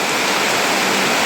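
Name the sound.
heavy rain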